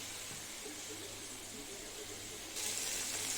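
Water poured into a pan of eggplant and fish, a steady rushing hiss of liquid that grows louder and brighter in the final second, close with no voices.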